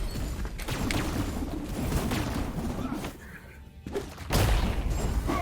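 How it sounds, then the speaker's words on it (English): A blood explosion in the video game Death's Game summum aeterna lands as a sudden heavy boom with a crash near the end, following a rumbling stretch of combat thuds and a brief quieter gap. "That was the blood explosion."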